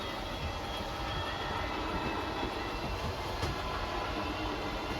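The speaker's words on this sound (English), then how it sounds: "Once that slide's fully extended, you're going to hear a couple of whines from the motors" A steady, rumbling mechanical drone from the slide-out motor of a 2022 Wildwood 24RLXL RV extending runs evenly throughout, like a motor grinding along at a constant pace, with no talking.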